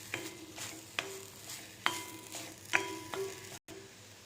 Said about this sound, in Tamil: உப்பை நல்லா மிக்ஸ் பண்ணிக்கலாம்.